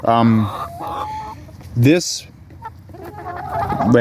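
Hens clucking and squawking in a permaculture chicken coop, close and loud, with short rising calls and a sharp squawk midway, mixed with a person talking.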